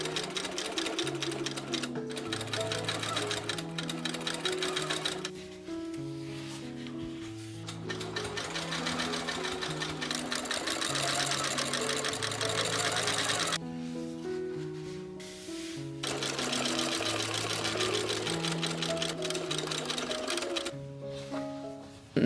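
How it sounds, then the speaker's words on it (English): A sewing machine stitches corset panels together in long continuous runs, loud and close, broken by a few short pauses between seams. "I could move on to sewing the panels themselves together"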